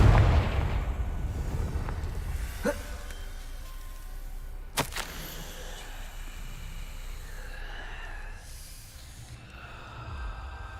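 A Confringo fire spell from Hogwarts Legacy goes off with a heavy, rumbling blast up front. Sharp cracks and a fading hiss follow, and a voice speaks faintly near the end.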